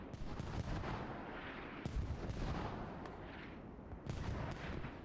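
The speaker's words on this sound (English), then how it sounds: "Grenade." Grenade blast in the military shooter Squad during an esports match, heard as a faint burst of sharp reports among distant artillery-like booms and scattered gunfire.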